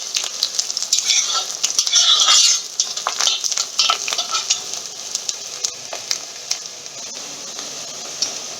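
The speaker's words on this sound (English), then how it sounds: "You have to fry it just pink. You don't have to brown it." Chicken for a Rajasthani royal chicken curry fries in a pan while being stirred: crisp, continuous sizzling broken by repeated spoon scrapes and clacks, loud and close with no talk.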